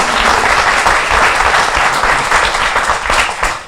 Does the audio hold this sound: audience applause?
yes